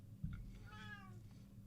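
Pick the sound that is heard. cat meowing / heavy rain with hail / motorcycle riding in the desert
cat meowing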